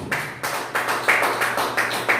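A church congregation claps together in a steady rhythm, with repeated bursts of applause in the room, no voices over it.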